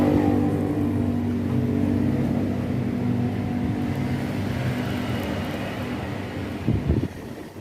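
A Klaz cooling fan runs with a steady, loud whooshing hum after being switched on, holding an even drone with a brief knock near the end.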